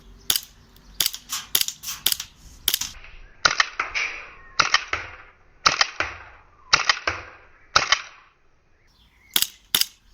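R31 CO2 airsoft pistol firing BBs outdoors from a bedroom window, sharp snappy pops in quick bursts of two to four shots with pauses between, each crack near and loud with a brief metallic mechanism clack.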